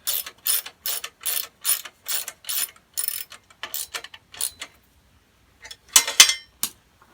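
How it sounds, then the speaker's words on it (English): A ratchet tightens the bolt holding a radiator guard on a Honda CRF250L dirt bike. It gives close, repeated bursts of rapid clicking, pauses briefly, then ends with a louder final flurry of clicks. "when you bolt this radiator guard back on, or radiator shroud, sorry, back on. It bolts on with it."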